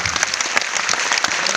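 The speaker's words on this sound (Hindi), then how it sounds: "और जोरदार तालियां बजा दीजिए।" Loud, dense audience clapping at a business event for a direct-selling company, sharp individual claps rising out of the steady applause throughout.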